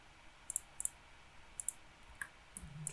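Computer keyboard keys being pressed while working in Maya, sharp small clicks arriving singly and in quick pairs, close and fairly quiet against a soft background hiss, with no talking.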